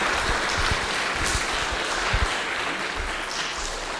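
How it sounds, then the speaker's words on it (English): Audience applause at a noon music concert in Sacramento, California, a steady dense wash of clapping that holds at an even level for about four seconds with no voices on top. "One more time, applause, please"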